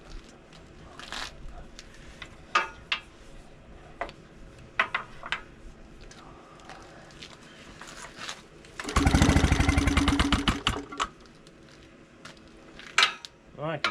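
A Maytag Model 72 engine bursts into a short loud run of rapid putting for about two seconds, amid scattered clicks and metallic clanks before and after.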